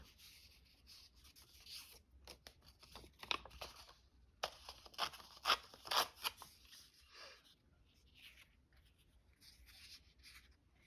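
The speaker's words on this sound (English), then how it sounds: "I think I'll cut it in half." Scissors cut a paper scrap in half at close range, a string of crisp snips and rustling paper handling, loud bursts in the middle then quieter crinkling at the end.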